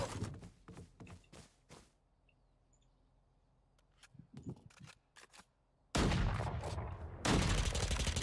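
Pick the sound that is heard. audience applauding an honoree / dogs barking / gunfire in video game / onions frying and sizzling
gunfire in video game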